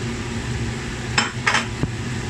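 A utensil scrapes and knocks a few times against a pan while fried pork pata is stirred, three short clinks over a steady low background, with no talking.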